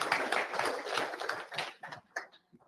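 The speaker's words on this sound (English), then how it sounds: "Let's give him a round of applause." Attendees at a live drivers' meeting give a round of applause, a short patter of claps that thins out into a few scattered, fading claps near the end.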